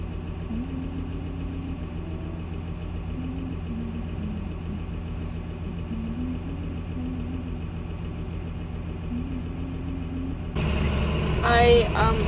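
A tractor engine runs steadily during hay baling, heard from inside the cab as a constant low drone with a faint tonal hum. It ends in a louder burst of noise.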